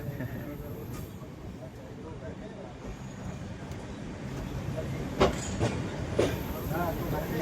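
Passenger train, a local service toward Delhi, rumbling along the rails with steady low-frequency noise and a few sharp clanks near the end; people talk faintly in the background.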